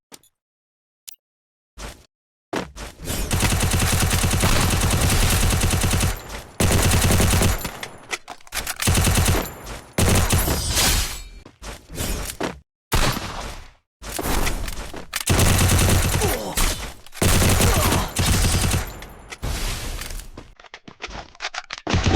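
Gunfire in the video game Free Fire: rapid automatic bursts separated by short gaps, loud and close, after a few quiet isolated shots at the start.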